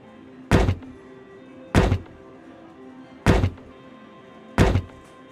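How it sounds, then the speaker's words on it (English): Someone knocks on a machine to get it working, four heavy thunks spaced about a second and a half apart, loud and close, with no talking. "Sometimes a machine just needs a good knock to make it work right."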